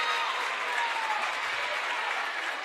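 Basketball fans at a 7th grade girls' game stand and applaud a defensive play, a dense, sustained wash of clapping filling the gym, steady and loud for the whole stretch.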